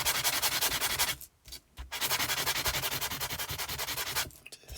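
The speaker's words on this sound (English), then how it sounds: "if I come along the sanding block, very, very fine sanding block or sanding paper" A very fine sanding block rubs across a handmade Christmas card in quick, even back-and-forth strokes, close and crisp, with a brief pause mid-way before the rhythmic scratching resumes.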